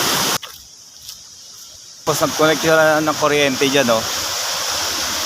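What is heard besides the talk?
river flowing down from the mountain toward the sea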